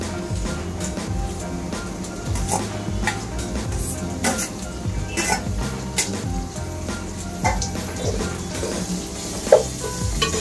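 Onion and tomato sauté in oil in a pan at a home kitchen, a steady sizzle under clinks and scrapes of a spoon against the metal, with irregular louder stirring knocks throughout.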